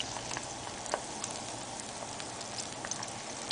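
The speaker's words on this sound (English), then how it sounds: "It's time to put it into a hot frying pan." Steady, crackling sizzle of a chicken fried fake steak patty frying in a hot pan, a continuous hiss with occasional small pops.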